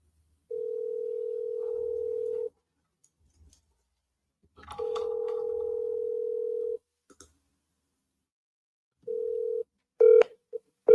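A phone line's steady dial tone sounds in long stretches, broken by pauses and quiet handling noise, and ends with a quick run of dialing keypad tones. No one speaks.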